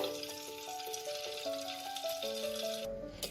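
Ghee sizzling in a pan for Bengali mutton keema ghugni, a steady bright frying hiss running throughout beneath a louder tuneful melody.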